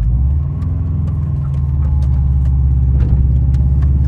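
Subaru Impreza P1 engine heard from inside while driving, a loud, steady low rumble with a constant drone and faint ticks, no talking.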